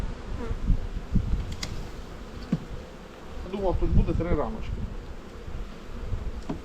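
A steady buzz of many bees humming close by as hive frames are handled, with someone speaking briefly over it and occasional knocks and scrapes.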